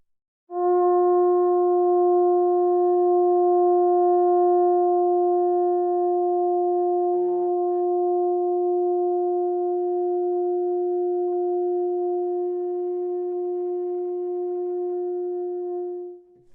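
A single long, sustained wind-instrument note on F, held very quietly and steadily for about fifteen seconds with a pure, even tone before stopping, heard alone in a quiet room.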